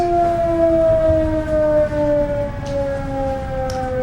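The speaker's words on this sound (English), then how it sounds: "The siren stops?" A loud, steady siren wails continuously at close range during a village planning board meeting in New Paltz, its tone slowly gliding downward, with no talking.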